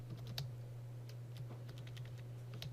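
Keys on a computer keyboard click in quick irregular bursts during a keyboard-shortcut cut-and-paste of C++ code, light taps close by over a steady low hum.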